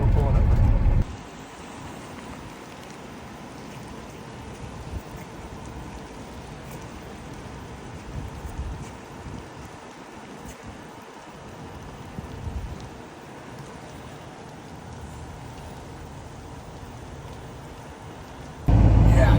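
Steady broadband hiss of pressurised water spraying at a truck wash beside a dirt parking lot, continuous and fairly even throughout, with a few brief louder bursts.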